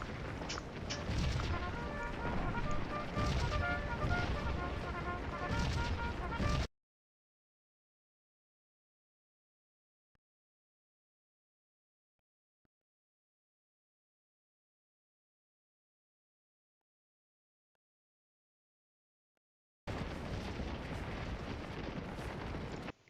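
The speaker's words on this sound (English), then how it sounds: "There's a nice volley" A musket volley from an American Civil War firing line in the Scourge of War battle game: a dense, loud roar of gunfire for about seven seconds, then near silence, then another burst of heavy firing.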